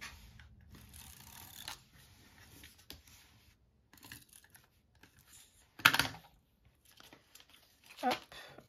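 Adhesive tape is pulled and pressed onto a cut paper box, heard as quiet scattered crinkles, taps and short rips, with two sharper tearing bursts, all faint and close.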